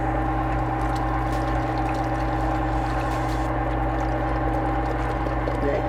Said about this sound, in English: I'm gonna pour in our base.